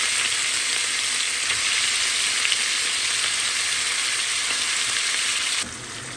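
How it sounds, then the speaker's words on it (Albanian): Meat searing in hot oil in a frying pan, a steady, dense, close sizzle that carries on evenly with no talk and drops slightly in level near the end. "Pasi që vaj është nxehur tash qesim mishin."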